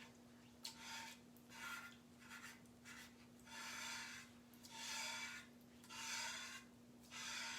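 A board eraser rubs back and forth over drying paste on a craft project, making soft rhythmic scrubbing strokes in repeated bursts, close and quiet, over a faint steady electrical hum.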